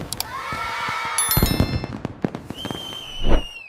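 Firecrackers crackle and burst in quick irregular pops and bangs during Diwali celebrations outdoors, with a whistling rocket-like tone near the end and a louder thump closing the sequence.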